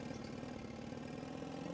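An ATV engine runs in the Guts and Glory video game, a steady mid-pitched idling drone that stays loud and continuous without a break.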